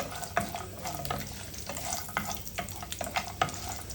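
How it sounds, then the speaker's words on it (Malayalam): Four walnuts and four almonds sauté in a pan, a soft frying hiss broken by repeated light stirring scrapes and clicks, close and moderately quiet, with no talk. "ഇതിൽ ഞാൻ 4 വാൾനട്ടും 4 ബദാമും ചേർത്തിട്ടുണ്ട്. ഇത് നന്നായിട്ട് വഴറ്റിയെടുക്കുക"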